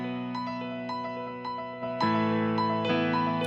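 Piano phrase with a Softube Saturation Knob plugin added, a series of struck notes and chords with warm, thickened sustain, getting noticeably fuller and louder about two seconds in, playing alone.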